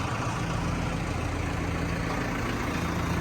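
Basak tractor engine running as the tractor drives off from a dealer's lot, a steady low diesel rumble with a constant hum and no change in level or any talking.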